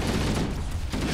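Dense, continuous gunfire from Halo CE combat, loud and sustained with a brief dip near the middle, heard over a busy battle mix without talk.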